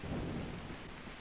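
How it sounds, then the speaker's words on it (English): Thunder rumble in the Dreamweb video game, a brief, low, dense roll mixed with rain-like hiss, fairly loud and lasting about a second, with no voices. "Thunder."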